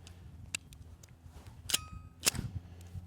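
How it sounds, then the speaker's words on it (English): Handgun chamber cleared and a fresh magazine inserted on a cheap pistol, giving two sharp metallic clacks, one midway and a louder one near the end, over faint outdoor background noise. "let's clear the chamber and insert a new magazine"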